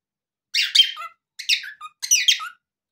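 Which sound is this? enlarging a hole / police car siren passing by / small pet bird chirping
small pet bird chirping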